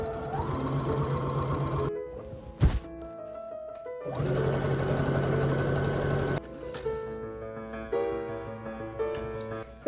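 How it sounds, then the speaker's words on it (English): A sewing machine stitching a line through white and pink fabric for a spring skirt, a steady mechanical whir with a brief pause, then another long run and a slower, uneven stretch, close up with no talking. "So I just finished sewing my first line"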